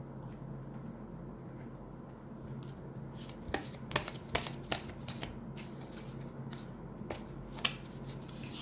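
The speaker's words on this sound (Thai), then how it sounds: "เดี๋ยวเรามาดูเป็นไพ่ออร์เคิลกันดีกว่า" Oracle cards are shuffled by hand, soft riffling under a low room hum with a few sharper snaps and flicks spaced through the passage.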